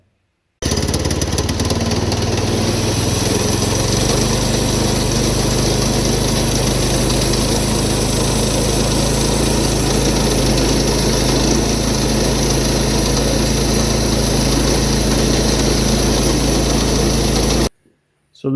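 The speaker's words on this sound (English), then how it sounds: "take our ash log out to the sawmill. We're going to basically square it on the mill" A sawmill engine runs at a steady, loud drone while an ash log is squared on the mill, a continuous mechanical roar that stops abruptly near the end.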